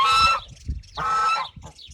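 A goose named Lucienne, a mother goose kept with ganders, gives two loud, close honking calls separated by a short pause, with a brief trailing call at the end.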